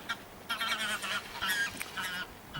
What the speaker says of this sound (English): watch the geese come in to say hello